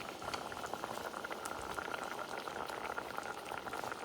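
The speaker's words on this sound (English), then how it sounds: "It's already boiling." Water at a steady rolling boil in a pot on the stove, ready for couscous, giving a continuous close bubbling and hissing patter with no voices.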